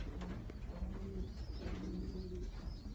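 Racing pigeons coo steadily inside an old bird loft set up for widowhood, a layered chorus of low, throaty, repeated calls close by with no talking.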